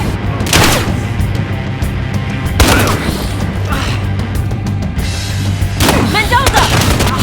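Loud bursts of gunfire in the video game Battlefield Hardline come in three heavy volleys, each a dense rattle of shots with booming tails, over constant background noise.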